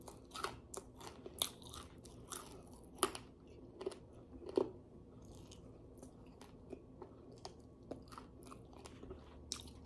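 Crispy fried food coated in flour and cornstarch crunched and chewed up close, soft yet crunchy, with irregular crisp bites and snaps spread through a steady close chewing rhythm, no talk.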